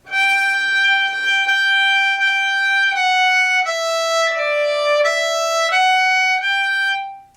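A fiddle plays the repeating G pattern from the Irish tune Morrison's Jig, a clear bowed melodic line of connected notes stepping down and back up, close and solo, ending with a fade.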